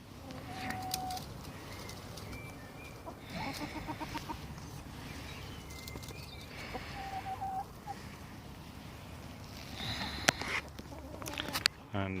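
Chickens cluck softly at an allotment in February, scattered bird calls over a steady outdoor rumble of wind, faint and somewhat distant, with occasional knocks.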